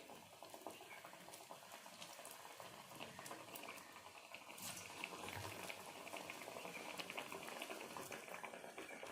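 Vada batter frying in hot oil, a faint, steady bubbling sizzle with soft crackles that continues without a break.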